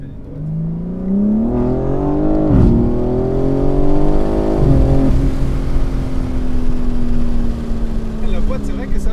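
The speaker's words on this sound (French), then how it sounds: "Et le bruit des passages de rapport aussi, je trouve qu'ils sont pas mal" BMW M4 Competition engine revving with rising harmonic sweeps broken by quick gear shifts, each upshift marked by a sudden pitch drop, then a steady loud drone on the straight as people talk inside the car.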